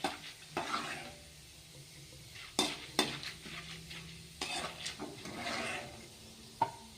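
Poha (flattened rice) fries in hot oil for chivda with a soft sizzle, broken by sharp scraping clatters of a spatula stirring the pan. The sound is quiet and close.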